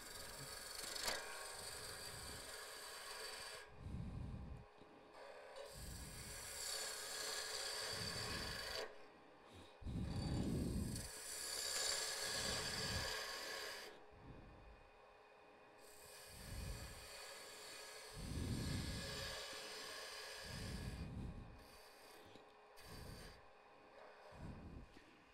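A skew chisel cuts wood on a lathe, producing a soft rasping, scraping sound in repeated passes that swell and fade, with no talk.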